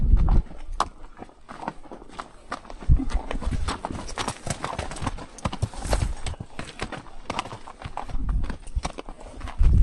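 Mule hooves clip-clop steadily along an old cow trail on a backcountry ride, the walking rhythm close and continuous for the whole stretch with faint rustling around it.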